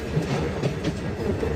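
A train runs from Srinagar to Baramulla through apple orchards, with a steady rolling rumble and faint clickety-clack of wheels heard from inside, continuous and moderately loud.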